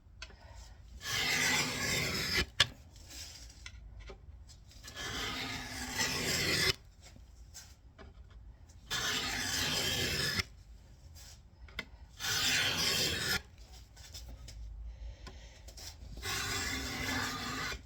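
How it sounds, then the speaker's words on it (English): A hand scraper works a metal dovetail slide in repeated rasping strokes, each a second or two long and separated by pauses, close and fairly loud with no talk. "Even when I'm scraping this, after I scrape a pass, I'll make a couple more passes back across this every pass."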